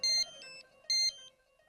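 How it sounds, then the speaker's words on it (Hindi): A phone ringtone plays two bright electronic chime bursts in a repeating pattern, close and clear, with no voices. "फोन उठाओ जरा, देखो किसका मैसेज है।"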